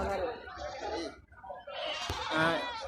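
Goats, including a Jamunapari, bleat at a goat market, loud and close, with several cries standing out over market talk.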